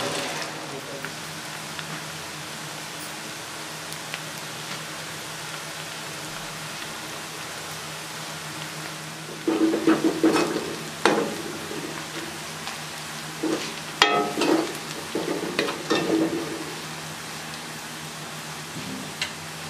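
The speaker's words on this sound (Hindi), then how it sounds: "प्याज को अच्छे तरीके से फ्राई करेंगे।" Onions fry in a pan with a steady, rain-like sizzle, joined midway by a few louder crackling stirs and scrapes.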